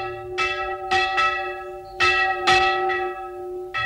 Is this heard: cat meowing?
no